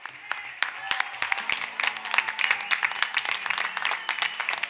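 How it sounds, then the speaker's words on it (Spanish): A festive crowd at a parranda music performance breaks into applause, dense sharp handclaps rising and falling over a few seconds, with voices and cheering mixed in. "Nuestro aplauso para ustedes."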